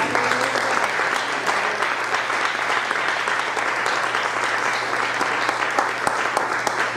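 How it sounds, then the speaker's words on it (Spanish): A church congregation at a youth congress applauds the Lord in a long, loud, sustained burst of clapping, filling the room evenly for about seven seconds. "¿Cuánto le dan un aplauso al Señor en este día?"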